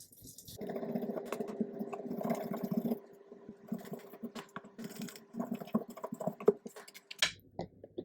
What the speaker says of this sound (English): And then I'm going to come in with my sander.